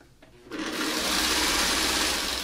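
A sewing machine stitches quilt fabric with a steady, loud mechanical whir that starts after a brief quiet moment and runs continuously to the end.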